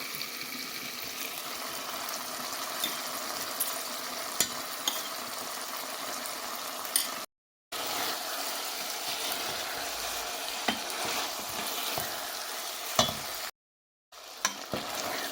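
Spiced rice and the remaining vegetables stirred together in a pot, a steady sizzling frying hiss with scraping stir strokes, close and continuous, broken by two brief silent gaps.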